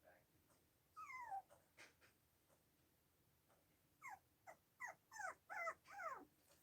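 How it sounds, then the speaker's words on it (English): A puppy yelps and whimpers in a run of high, rising cries, a short burst and then a quicker series of repeated yelps, fairly faint against quiet background noise. "I have a yelping puppy"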